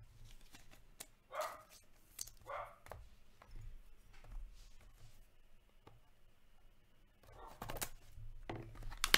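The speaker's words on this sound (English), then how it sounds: "Sorry about the puppy there" A puppy barks in a quiet room where hockey trading-card boxes are being opened, giving a few short, faint yips scattered through the quiet stretch.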